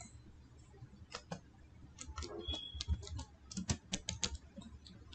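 Several sharp clicks from a computer mouse on a laptop setup, scattered irregularly through quiet room noise with faint low rumble beneath.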